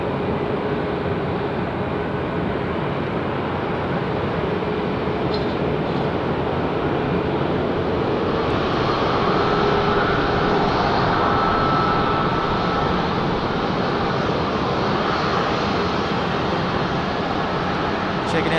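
An Allegiant Airbus jet at Nashville International Airport produces a steady, broad engine roar heard from a distance, filling the whole clip at an even level with no clear breaks.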